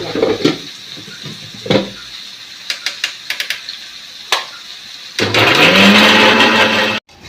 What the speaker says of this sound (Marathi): मग कांदा भाजल्याच्या नंतर वाटायला मिक्सरमध्ये ते वाटायला